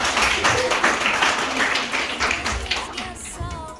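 A school ceremony crowd applauds parents as they are invited forward, with steady clapping throughout and a voice speaking over it.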